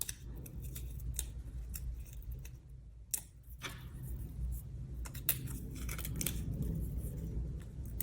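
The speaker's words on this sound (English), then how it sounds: "And we'll just go ahead and peel the backings right off." Backings peeled off adhesive foam dimensionals for papercraft, heard as faint close crinkling, tearing and small clicks spread across a quiet stretch with no voice.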